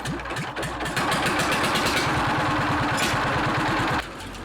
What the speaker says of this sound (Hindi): हम यहाँ पर पीटर इंजन इस्तेमाल करेंगे।